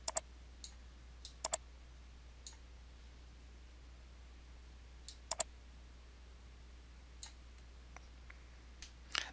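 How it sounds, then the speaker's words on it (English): Sharp, close computer mouse clicks come in single and double taps, scattered over a quiet steady hum. "Click on the radio button labeled Values in Selected Column."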